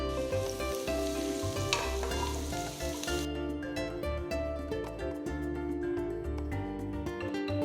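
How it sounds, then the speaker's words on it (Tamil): Chopped garlic and onions fry in melted butter and oil in a wide pan, a loud steady sizzle with scraping stirs, all over continuous background music. "2 வெங்காயம் பொடியா நறுக்குனது போட்டு வதக்குங்க."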